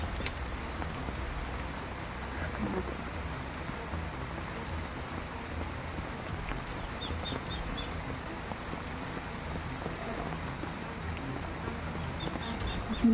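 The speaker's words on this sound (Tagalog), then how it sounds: "Lumalakas po yung ulan ngayon." Heavy rain pours steadily during a typhoon, a constant, fairly faint wash of hiss and patter with no voices and no breaks.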